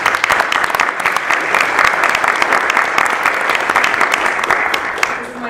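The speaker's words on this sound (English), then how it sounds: "So just a quick round of applause to all of you." Audience applause fills the room in a steady, dense wash of clapping that holds loud and even for several seconds before tapering slightly at the end.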